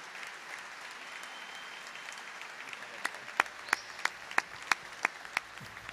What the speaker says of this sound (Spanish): Pido un fuerte aplauso para el querido Manu Andújar.